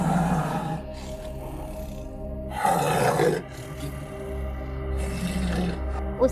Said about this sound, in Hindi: उसकी दहाड़ की आवाज सुनकर जंगल के सभी जानवर डर गए